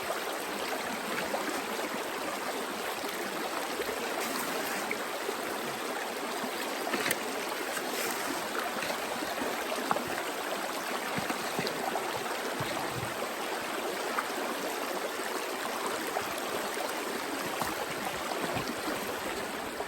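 Creek water runs steadily through a gold prospecting sluice, a continuous close rushing and trickling wash with no talk.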